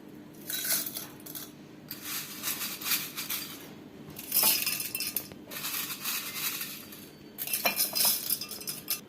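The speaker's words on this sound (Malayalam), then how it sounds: "ഗ്ലാസ് എടുത്തിട്ട് അതിൽ കോൺഫ്ലെക്സ് ആദ്യം കുറച്ചിട്ട് കൊടുക്കണം." Cornflakes poured into a glass for a fruit cocktail, crisp rattling clinks in several bursts separated by short pauses, close and fairly loud.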